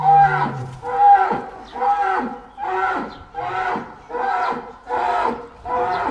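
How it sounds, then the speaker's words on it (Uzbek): A very large cow, a roughly two-tonne animal at a livestock setting, moos loudly and close by, giving about eight deep, drawn-out lowing calls in a steady repeating rhythm. "Ana katta sigirni qarang, yonboshiga ko'rinmaydi"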